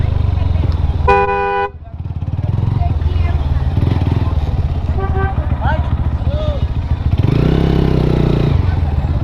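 Motorcycle engine idling and revving near Madhabpur Lake in Sreemangal, Bangladesh, in a busy outdoor spot, with a horn tooting early on, people talking over it, and another vehicle passing loudly toward the end.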